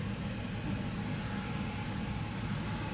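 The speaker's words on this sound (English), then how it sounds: "KLM flight 1219 to Stockholm is coming this way. It's a 737-800." KLM Boeing 737-800 airliner moving at Amsterdam Schiphol Airport, a steady broad jet-engine roar that holds constant and fairly loud throughout, with no talk.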